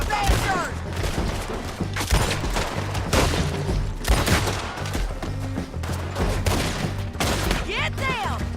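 Artillery and gunfire in the video game Red Dead Redemption 2: a loud, continuous battle of overlapping rifle shots and heavy booms, with voices shouting over the fighting.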